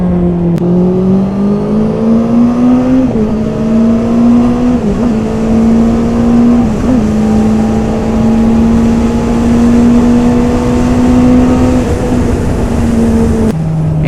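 A 2021 Honda CB650R inline-four motorcycle holds a high, steady engine note on a race track, rising slightly in pitch as it revs, loud and close throughout with no speech.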